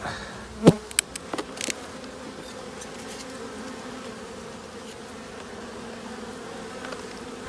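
Honeybees buzzing steadily at a Mini Plus hive during a colony split, a close continuous drone throughout with a few sharp knocks of frames or hive parts near the start.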